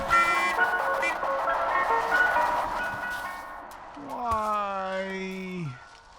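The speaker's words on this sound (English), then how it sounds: "getting only a few steps before he's hit by an ice cream truck" A video game character struck by an ice cream truck: a cheerful jingle plays, then a rising, sliding synthetic horn-like tone swells and cuts off, with talk over the start.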